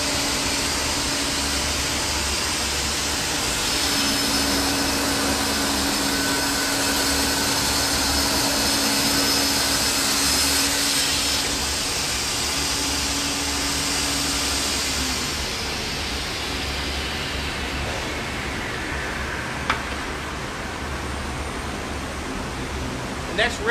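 A Holz-Her 1260 automatic vertical panel saw rips a panel, giving a loud, steady roar of motor and blade with dust-extraction rush that holds for most of the run and eases slightly toward the end.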